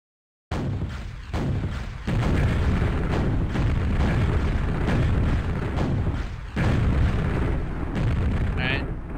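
Auto missile explosions from a Quake-style template built in Unreal Engine 4, a dense barrage of loud booming blasts rolling almost continuously, with a few sharper bursts standing out near the end.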